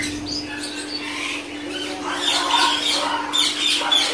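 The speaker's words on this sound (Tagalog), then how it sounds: "Daming ibon." Finches and other aviary birds keep up a busy chorus of chirps and squeaky calls, fairly close and steady, with a low electrical hum underneath and no talk.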